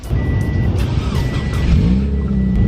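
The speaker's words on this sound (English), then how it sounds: "I'm gonna fire it up here, probably take it for a quick drive." A rally car engine cranks and catches, then idles with a rough, rumbling tone close by, a brief belt squeal rising over it.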